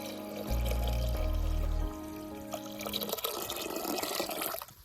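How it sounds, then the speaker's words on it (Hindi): Water pours into a clay pot for cooking dal, with a rising, hollow filling sound, first a low, steady gush, then lighter splashing and dripping as the stream continues. "नेक्स्ट अब हम इसमें डालेंगे पानी।"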